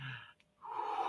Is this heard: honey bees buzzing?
no